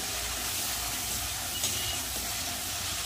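Chilli and cumin paste sizzles steadily in hot oil while being sautéed for a jackfruit curry, a continuous broad hiss with a brief louder pop near the middle and no talking.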